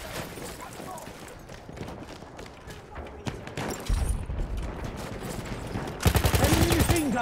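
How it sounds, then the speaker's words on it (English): Enemy machine gun fire on the Verdun battlefield in the video game Battlefield 1, dense rattling bursts and booming shots near and far, growing louder toward the end, with voices heard under the combat noise. "Enemy machine gun!"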